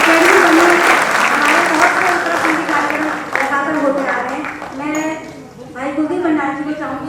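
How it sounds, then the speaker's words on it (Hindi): An audience at a stage play performed for an anniversary event claps loudly and continuously, with a voice speaking over the fading applause in the second half. "उसके लिए जोरदार तालियां बजाएं।"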